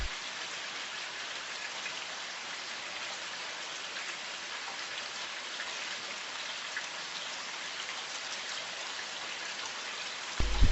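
Steady, even rainfall patters throughout, a dense hiss of drops with no voices, holding constant until a brief louder bump at the very end.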